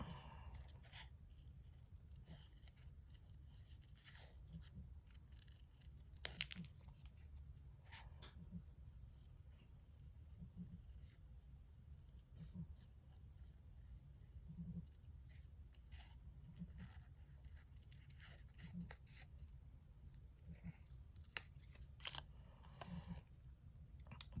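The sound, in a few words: scissors cutting out a paper holly leaf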